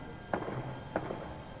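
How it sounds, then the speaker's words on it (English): Gunfire in a Spider-Man video game comes as two sharp, distant-sounding cracks about half a second apart, faint over a quiet ambient background. "Gunfire."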